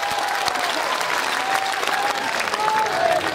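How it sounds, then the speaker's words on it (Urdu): Loud applause from a large crowd at a poetry gathering comes as a dense, continuous roar of clapping with a faint tonal whistle mixed in. "دونوں ہاتھ کھڑے کر کے زوردار تالیاں بجا کر مجھے حکم دے"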